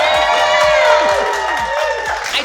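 A studio audience cheers and whoops steadily throughout, a dense crowd roar with shouts and some clapping, close and loud, during a radio station visit by a band.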